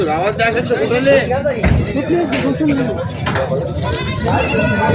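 Several pregnant village goats bleat loudly and repeatedly with wavering cries, over a busy background of people talking at the crowded Vasmat goat market in Hingoli district.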